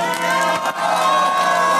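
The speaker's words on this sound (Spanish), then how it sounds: "Recibamos con un fuerte aplauso a la diputada Betty García Villegas." Crowd at a protest rally against an electricity rate hike in the State of Mexico cheers and applauds to welcome local deputy Betty García Villegas, with loud shouts and whoops over clapping.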